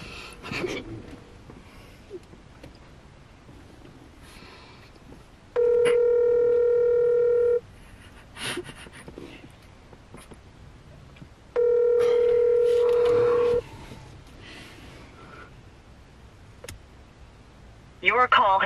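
A telephone call rings out unanswered: two long, steady ringback tones sound several seconds apart, each lasting about two seconds, with quiet room noise and faint movement in between.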